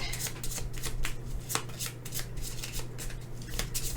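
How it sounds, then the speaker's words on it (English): A deck of game cards being shuffled during a solo tabletop board game, a steady run of crisp riffling flutters close by for about four seconds with no talking. "And I'm first player, so we go ahead and shuffle these again."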